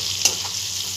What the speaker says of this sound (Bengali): এখানে আমি কড়াতে তেল দিয়ে চিংড়ি মাছকে ভাজছি